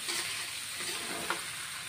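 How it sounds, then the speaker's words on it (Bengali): Potatoes stir-fried in a pan with green chilli paste and spices, giving a steady close sizzle throughout with faint scraping of the spoon and one small clack partway through. "দিয়ে এখন আমি কষিয়ে নিব, আলুগুলি মশলা দিয়ে কষিয়ে নিব"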